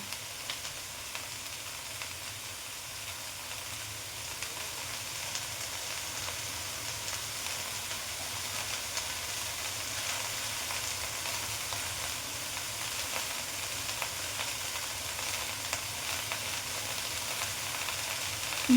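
A Bengali vegetable curry of ash gourd leaves simmers in a covered pan, an even, continuous sizzling hiss that holds steady for almost twenty seconds with no voices.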